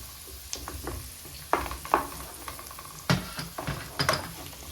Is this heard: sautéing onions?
yes